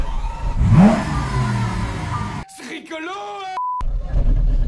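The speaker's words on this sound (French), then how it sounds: "Hop là, bon ça a démarré de suite du premier coup." A small Aixam Minauto microcar with a mechanically injected engine cranks and catches on the first try, followed by a beep and engine idle, with someone speaking over it.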